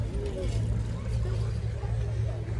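A Renault Alpine sports car rolls along a busy Paris street with a steady engine rumble, close by, under the murmur of a crowd and surrounding traffic.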